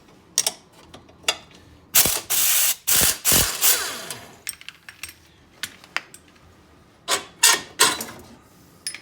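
A hand ratchet with a 15mm socket loosens hitch receiver bolts on a 2019 Can-Am Outlander Max XT ATV, making close, crisp bursts of rapid clicking separated by short pauses and small metallic clinks.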